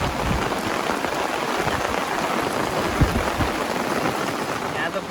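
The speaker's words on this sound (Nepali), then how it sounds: "पानी भयो, पानी।" Heavy rain pours down in a flooding hometown with a swollen stream nearby, a dense, loud, unbroken roar of drops with a few heavier splashes and no voices over it.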